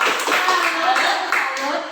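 A group claps hands together in a steady burst of applause lasting about two seconds, with voices talking over it.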